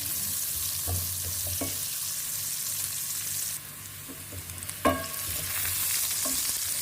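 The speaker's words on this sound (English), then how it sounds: "Let's cook the onions till they're ready." White onions fry in a pan with a steady, close sizzle, broken by occasional clicks and scrapes from stirring.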